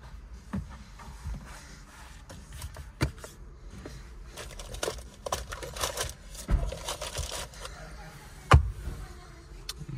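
INFINITI genuine floor mats handled inside a white 2024 INFINITI Q50 Sensory, giving soft irregular shuffling and rustling with scattered light knocks and one sharper clack near the end, close and fairly quiet.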